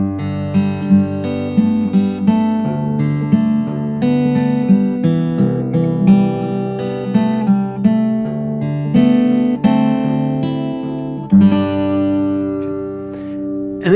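Fingerstyle acoustic guitar arrangement of a song, with picked melody notes over a ringing bass line flowing continuously, close and clear with no voices.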